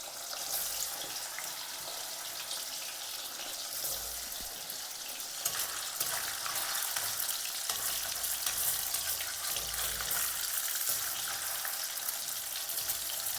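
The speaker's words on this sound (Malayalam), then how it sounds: "എണ്ണ നന്നായിട്ട് ചൂടായിട്ട് വരുമ്പോൾ അതിലേക്ക് നമുക്ക് ചെറുതായി കട്ട് ചെയ്തിരിക്കുന്ന സോസേജ് നമുക്കതിലേക്ക്" Small chopped pieces of chicken sausage fry in hot oil in a pan, giving a steady, fairly quiet bubbling sizzle that continues throughout with no one speaking.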